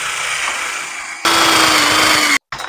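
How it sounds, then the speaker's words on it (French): Close, loud whir of a power tool driving a screw downward through a plasterboard ceiling island frame, running continuously, rising in pitch midway, then cutting off abruptly and briefly restarting. "Je viens le visser par le haut."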